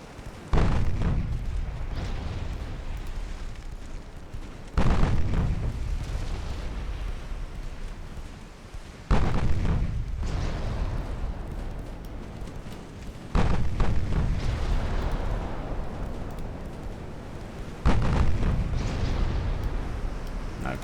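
Naval guns firing high explosive shells in an Imperial Austrian naval campaign game: five heavy booming salvos, each a loud sharp blast with a long rumbling decay, spaced roughly every four to five seconds.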